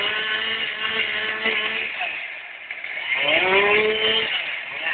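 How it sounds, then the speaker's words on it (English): A chainsaw bores into a tree trunk during felling near a church, its engine droning loud and steady, dipping briefly and then rising again under the load of the cut, with someone talking over it. "He's now performing the boring cut"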